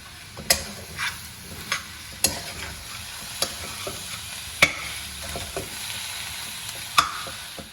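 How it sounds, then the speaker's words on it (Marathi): Potatoes with masala and coriander stir-fried on a low flame, a soft background sizzle broken by regular sharp taps and scrapes of a spatula against the pan, about one every half second to second. "बारीक गॅसवरती व्यवस्थित हे परतून घेऊया"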